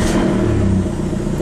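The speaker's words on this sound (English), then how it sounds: "let's start her up and see if we hear any noise" Car engine running after a belt replacement, a steady mid-pitched rumble with a slight revving swell, close and moderately loud, with no squeal audible.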